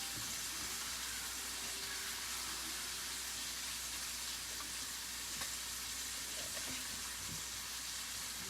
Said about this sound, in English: we're going to rinse all this out